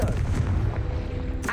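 A Confringo fire spell blasting in Hogwarts Legacy, one short, loud, booming burst with a rumbling tail, close and alone.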